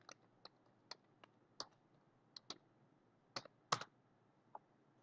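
Someone types commands into MySQL on a computer keyboard, about a dozen quiet, close key clicks in an uneven rhythm with a few quick double taps.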